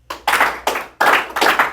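Sharp hand claps from a group of students in a classroom, four loud, fairly even bursts with short gaps, each clap smeared by many hands landing slightly out of sync.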